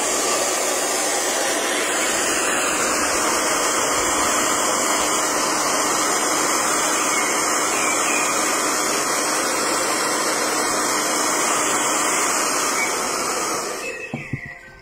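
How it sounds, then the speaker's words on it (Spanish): A hair dryer blows steadily on a wooden craft piece, a loud, constant airy whoosh that lasts about thirteen seconds before cutting off abruptly. "Ahora vamos a secar nuestro trabajo, nuestra madera para apurar el proceso."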